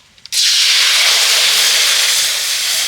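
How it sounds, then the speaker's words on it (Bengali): Water hits a hot, dry kadai that was just used to roast peanuts and dried chillies, bursting into a loud, steady steam hiss that starts abruptly and holds strong to the end. "ওই একই কড়াইতে এবার আমি জল দিয়ে দিচ্ছি"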